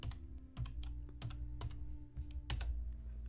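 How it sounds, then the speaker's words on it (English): Keys clack on a computer keyboard in a quiet room, several distinct presses at an uneven typing rhythm over a low steady hum, close and soft, with no talking. "I'll type it in the chat."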